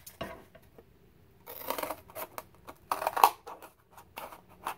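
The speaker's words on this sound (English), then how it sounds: "cut it down to size" Scissors snip through corrugated cardboard from an Amazon box in a few close, crisp crunching cuts separated by short pauses, fairly quiet with no talk.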